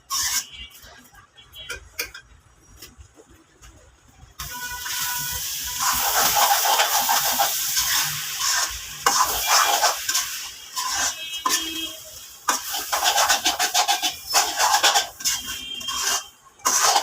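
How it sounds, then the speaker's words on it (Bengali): Rice and lentils stirred and roasted in a pan for khichuri, a steady loud sizzling hiss with scraping rub of the spoon, starting after a quieter stretch and running on with brief dips. "নাড়াচাড়া দিয়ে চালটা সবাই কষাবো।"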